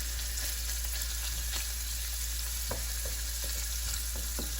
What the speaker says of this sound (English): My garlic is cooking in.